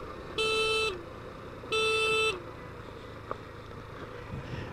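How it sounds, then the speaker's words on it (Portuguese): Car horn sounding two long, steady honks in a row, loud and close, near a rocky track by the Banabuiú reservoir, followed by quiet outdoor ambience. "Aqui eu vou dar mais duas buzinadas."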